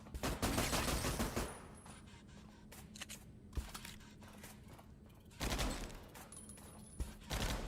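Rapid gunfire bursts from a combat simulation video game played on a Steam Deck, loud salvos at the start and again near the end with quieter scattered shots between.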